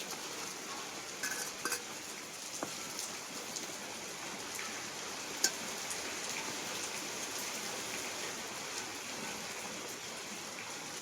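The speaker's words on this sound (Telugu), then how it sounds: "వర్షం అయితే వచ్చేస్తుందండి ఈ వర్షంలోనే వండుకున్నానన్నా" Steady rain patters densely on a surface, an even hiss of drops with a few sharper clinks now and then.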